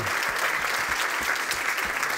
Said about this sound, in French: Je crois qu'on peut les applaudir, Trilobe